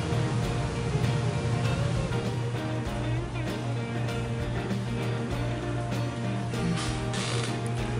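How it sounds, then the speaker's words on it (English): Nuts being undone on the headlight actuator of a 1968-1982 Corvette: a continuous close ratcheting clatter with mechanical clicks and creaks over a low steady hum. "he can undo the four nuts holding the actuator to the headlight support"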